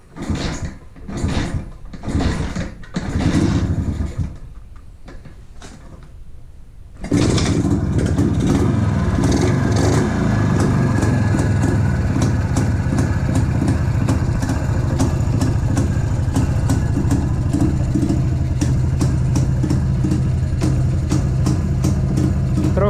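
A 1962 JAWA-559/02 motorcycle engine, under restoration with no throttle cable fitted, first sputters with uneven firing, then settles after about seven seconds into a loud, steady idle with a dense, continuous rapid beat, running alone close by.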